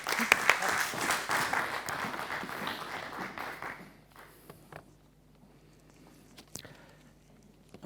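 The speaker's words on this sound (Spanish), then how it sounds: "Le damos un aplauso y les dejamos con su exposición." Audience applause for a speaker at a symposium on the Forastera grape, lively clapping for about four seconds that thins to a few scattered claps, then a quiet room with faint shuffling and murmuring.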